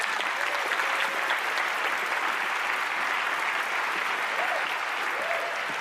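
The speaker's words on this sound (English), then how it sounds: "Please join me on the stage and let's give her a big round of applause" A studio audience at a magic competition show breaks into sustained applause, a broad, even wash of many clapping hands that holds steady throughout at moderate volume.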